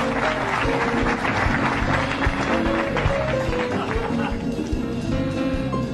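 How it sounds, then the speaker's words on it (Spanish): A live audience claps for a stage magician as he is introduced, with moderate, uneven applause and distinct individual claps over steady tonal sounds and voices in the background. "Un aplauso al Mago Chin"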